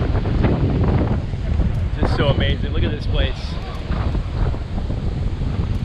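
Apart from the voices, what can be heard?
wind blowing on the Florida coast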